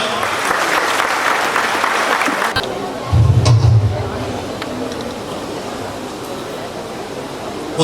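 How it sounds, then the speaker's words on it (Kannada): Loud applause from an audience at the launch event of a wildlife conservation campaign in Dandeli, a sustained broadband clatter that swells into a louder burst midway, then settles into steady clapping. "ಜೋರಾದ ಚಪ್ಪಾಳೆ"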